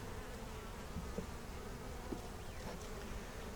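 Honey bees hum steadily around hive frames holding nectar and honey, a dense continuous buzz close by with a few brief louder passes and no talking.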